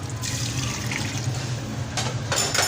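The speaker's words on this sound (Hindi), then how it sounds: "अब इसमें हम डालेंगे पानी।" Water pours into a cooking pot holding about a kilo of rice for chicken Nargisi pulao, a continuous splashing flow with a couple of brighter gushes near the end.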